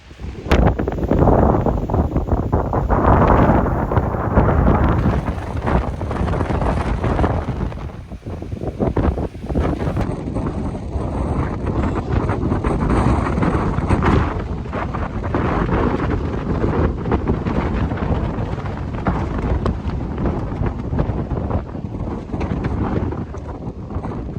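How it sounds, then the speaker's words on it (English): Strong wind roars steadily across a mountain trail on the Continental Divide Trail near Glacier, battering the microphone with loud, continuous gusts for the whole stretch, with no voices. "The wind is crazy."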